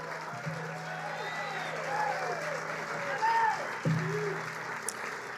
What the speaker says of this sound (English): give a loud round of applause to Scott Herbert and the entire Grass Clippings ground crew